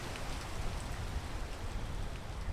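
Steady rain falls in the climbing game PEAK, a dense, continuous hiss of drops pattering on surfaces with no pauses, moderately loud and with no voices.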